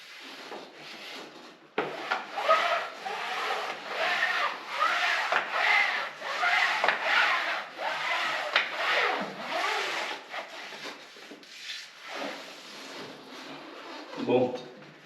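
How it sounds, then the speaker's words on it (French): A maroufle spatula scrapes and rubs over fiberglass cloth pasted to a ceiling during a renovation, pressing it into the corner. Steady rasping strokes repeat close by, with a voice talking over them. "Ta maroufle, tu la mets dans l'angle"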